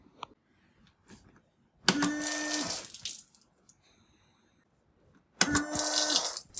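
A wifi-controlled water squirter fires two loud spraying bursts, each about one to one and a half seconds long, with a short quiet gap of faint movement sounds between them.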